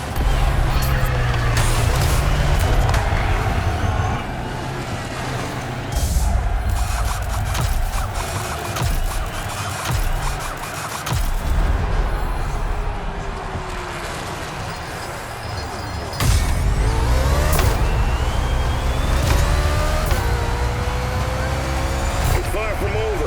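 Car engine in The Crew Motorfest, a 1961 car driving at high speed, roaring steadily with revving surges throughout, with a commentator's voice over it.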